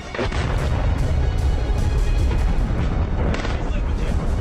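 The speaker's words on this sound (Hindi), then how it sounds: "हमले के जो वीडियो सामने आए हैं उसमें धमाकों की आवाज के साथ साथ धुएं का गुबार दिख रहा है।" Airstrike explosions hit a Hezbollah command center, producing loud, dense, rumbling booms that roll on continuously with sharper blasts scattered throughout.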